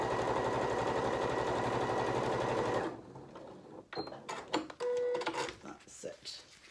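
A sewing machine stitches a quarter-inch seam allowance, running as a fast, steady mechanical whir for about three seconds before stopping. Soft handling clicks and rustles of fabric follow, with brief speech near the end.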